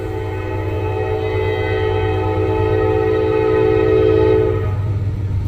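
A freight train on the Mon line in Pittsburgh rolls loudly through a rail crossing at night, its steady rumble and wheel noise filling the scene while a sustained horn blast sounds, then cuts off near the end.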